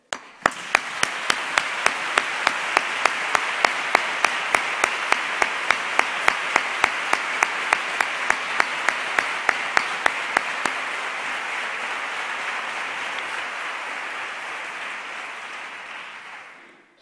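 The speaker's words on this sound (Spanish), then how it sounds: "yo quisiera pedirles a todos un fortísimo aplauso" Sustained audience applause fills a hall at a Holy Week Madrugá exaltation event in Rota, Spain, with loud, dense clapping and sharp regular claps on top. It holds steady, then thins and fades out near the end.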